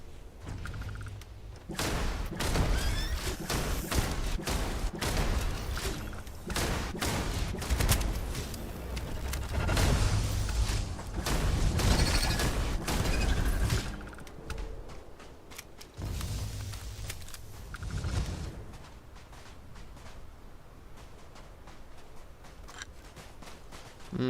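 Weapon fire in Starfield, shooting through cover. Long rattling volleys and rapid bursts repeat loud and close for over twenty seconds, broken by brief pauses, with hardly any talk.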